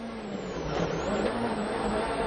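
A WRC rally car set up with gravel tyres and soft suspension runs on tarmac in Argentina, its engine a steady, fairly distant roar under broadcast noise.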